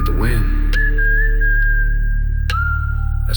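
A long sustained whistled tone in a country trap song, rising then holding steady, with a second whistled note near the end over a deep 808 bass and a voice.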